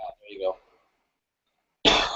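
A single harsh, close cough bursts out after a hit of hash, following a moment of speech and then silence.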